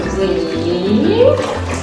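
A puppy is bathed at home in a tub of water, with steady sloshing and splashing close by through the whole short stretch. A voice sounds faintly underneath.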